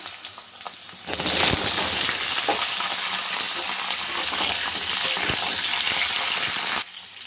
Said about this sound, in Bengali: আবার পটলটা হালকা ভেজে নেবো